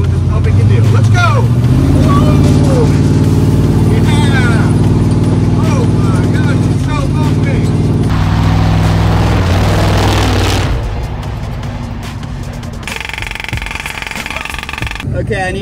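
A monster truck engine roars and accelerates in a loud, rough rumble that swells, then drops away near the end, with voices talking over it.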